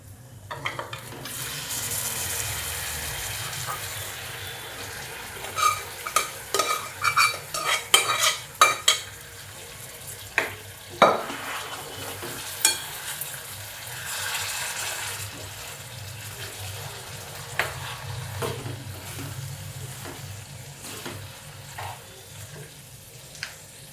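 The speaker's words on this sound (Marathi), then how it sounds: "असं तेल सुटेपर्यंत चांगला परतून द्यायचा" Mutton masala frying in oil for a dry mutton dish, a low steady sizzle broken by a run of sharp spoon scrapes and clinks against the pan in the middle, then quieter stirring, close by and without talk.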